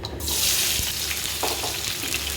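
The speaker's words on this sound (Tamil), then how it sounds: "இந்த வெங்காயம் நல்லா இந்த எண்ணெயில் இந்த மாதிரி நல்லா வதக்கிடுங்க" Onions sautéing in oil with dried chillies for an onion chutney, a steady broadband sizzle filling the pan throughout, close and fairly loud, with a few soft stirring scrapes and no talk.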